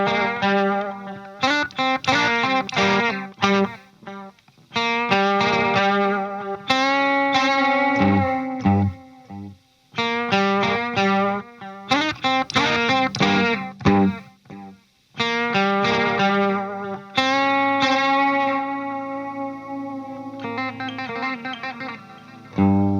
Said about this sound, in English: This is way more delay than I would ever attempt to use